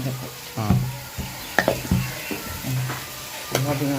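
Beetroot sautéing in a pan for a Jaffna-style beetroot varai, with soft sizzling and intermittent scraping stirs close by, some sharper clatters, and brief voices in the background.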